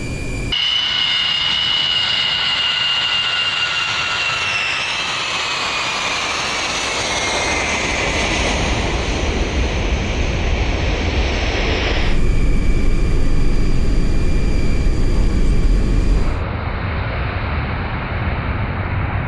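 An Ilyushin IL-76 jet transport roars down the runway at Juba on takeoff, a loud sustained engine rumble and whine that shifts in pitch and swells partway through, heard alone without voices.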